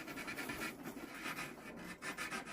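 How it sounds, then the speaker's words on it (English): Sandpaper rubbing across the end grain of a wooden tack hammer handle, a steady close scratchy rasp with repeated strokes, alone without talk. "On the end grain, I might just hit it with a little sandpaper."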